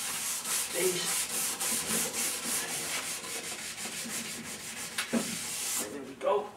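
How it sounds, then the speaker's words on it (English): A nylon pad scrubs the base of a cross-country ski, a steady close rhythmic scouring with regular back-and-forth strokes that runs loud for most of the stretch before stopping near the end. "I'll just give this little nylon stuff to make sure I'm really getting everything out of the base."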